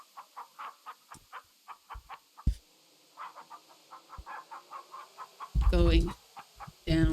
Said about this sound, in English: These is good chickens.